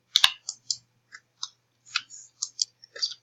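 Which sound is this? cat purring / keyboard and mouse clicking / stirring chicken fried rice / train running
keyboard and mouse clicking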